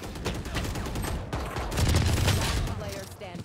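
Rapid video game gunfire in a battle royale match, dense crackling bursts of shots and a low boom near the middle, with someone talking over the action throughout.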